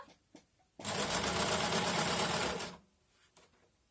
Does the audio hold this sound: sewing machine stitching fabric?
yes